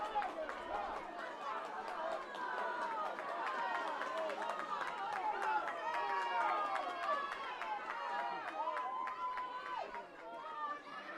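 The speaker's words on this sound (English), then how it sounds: "Hear the crowd" Crowd noise at an All Ireland junior club hurling final, a dense, continuous roar of chatter and cheering from many spectators, with scattered sharp sounds from the stands.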